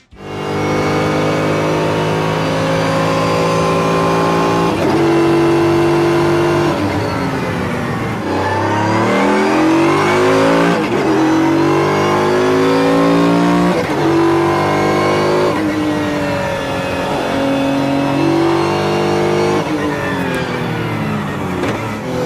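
A powerful AMG V12 sports car engine roars loudly and revs up and down through several climbs in pitch, close and continuous, with no talking.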